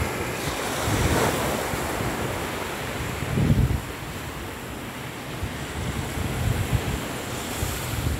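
Surf rolls steadily onto Bath Beach in St. John, Barbados, where sargassum seaweed lines the shore, with gusty wind buffeting the microphone throughout and a few louder wave surges standing out.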